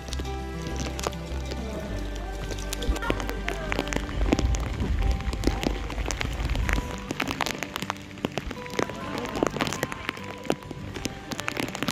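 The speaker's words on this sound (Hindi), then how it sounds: "बारिश हो रही है तो करना पड़ा।" Heavy rain falling at the Cabo de Rama fort in Goa, a dense, loud patter of drops striking close surfaces, continuous throughout with low rumbling underneath.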